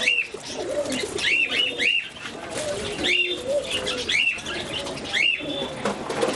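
Pigeons at a pigeon farm coo repeatedly in short, rolling calls, with wings flapping in bursts between them, close by and fairly loud, with no talk.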